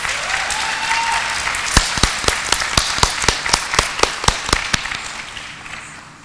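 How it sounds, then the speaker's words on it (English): Audience applause after a solo dance performance at a recital, a crowd wash overlaid with a run of sharp, evenly spaced loud claps in a quick rhythm that fade out toward the end. "Another round of applause."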